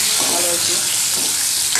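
Cumin seeds with green and dried red chillies crackle in hot oil for a tempering, a short burst of dense, loud sizzling and spattering heard close up, with no talking.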